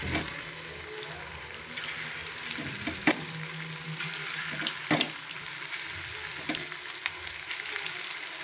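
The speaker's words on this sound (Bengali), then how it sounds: "এর পরবর্তী চিকেনগুলো আমি ভেজে নেব।" Chicken pieces frying in oil for spicy restaurant-style chili chicken make a continuous close sizzle, broken by occasional soft clinks and bubbling pops.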